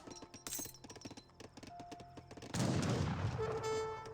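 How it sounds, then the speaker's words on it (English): Horse artillery guns firing in Age of Empires 3, a battle of repeated sharp cannon and gun reports in quick bursts, turning into a dense, loud rumble of massed fire in the later half. "Got a good number of horse guns here."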